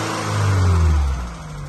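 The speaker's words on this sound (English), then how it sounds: "It revs itself a little bit when you start up." A 1987 Volkswagen Golf Clipper Cabriolet engine turns over and revs up briefly, rising to a loud hum before easing back down toward idle.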